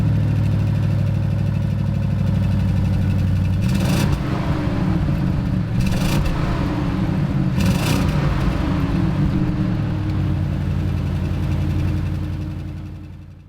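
Audi RS Q8 with 4-liter V8 bi-turbo petrol engine and performance exhaust idles with a deep burble, then blips the throttle in three sharp revs before settling and fading out.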